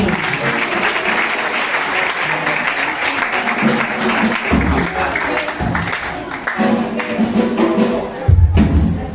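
A church congregation at a youth presentation in Villa Redencion claps loudly and steadily throughout, a dense crowd of hands with a voice or two briefly audible among them.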